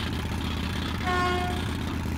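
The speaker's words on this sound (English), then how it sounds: "X button to honk the horn." A vehicle horn sounds once in Metro 2033 Redux, a short steady toot of about half a second over a constant engine rumble.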